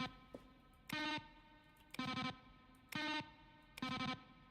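Button-press effects from the video game The Stanley Parable: Ultra Deluxe, each a mix of keyboard strokes and synthesized tones, sound as four evenly spaced, buzzy, distorted electronic tones about a second apart, with faint clicks between them.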